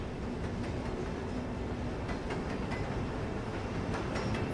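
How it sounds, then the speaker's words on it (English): A train running on rails, a continuous rumbling roll with periodic clacking beats, steady and fairly loud throughout with no voices. "it looks like there's a train that leads into his nearest town"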